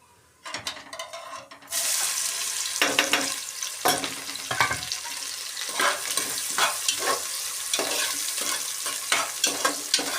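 Chopped onion drops into hot oil with cumin for Gujarati gavar dhokla, setting off a sudden loud sizzle that keeps going steadily, with spoon stirring and scraping in the pan, close up and with no talking.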